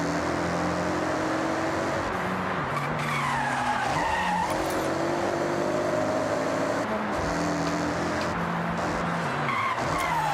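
A race car in the Forza Horizon racing game skids under the handbrake, with a continuous engine roar, squealing tires sliding through corners and revving gear changes, loud and steady throughout.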